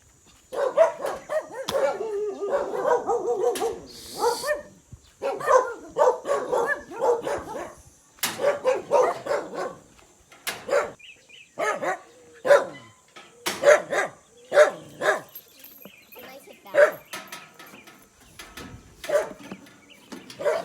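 A dog barks repeatedly in short, irregular bursts, fairly close and loud, with brief pauses between volleys.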